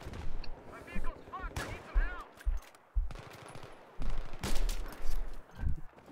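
Gunfire in the video game Battlefield cracks in sharp, loud bursts with rumbling booms between them, while someone talks over the shooting.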